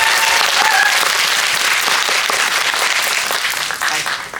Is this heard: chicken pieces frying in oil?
no